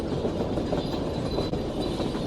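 A metro train in a video game rumbles steadily along its track, a loud continuous clatter and roar that stays close and even throughout with no talk.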